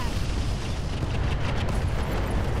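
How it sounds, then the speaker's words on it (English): Incendiary weapons fire and explode in the mech combat game Roguetech, a loud continuous roaring rumble of blasts and fiery bursts that fills the whole stretch with no pause. "Let's just shoot him. Incendiaries."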